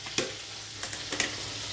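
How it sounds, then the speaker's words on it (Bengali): Fish frying in a pan with a steady sizzle, punctuated by several sharp scraping stirs of a utensil against the pan. "মাছটা ভাজা হোক"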